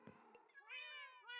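A Minecraft cat gives one clear, rising meow, close and distinct after a couple of soft clicks, ending with a short tap.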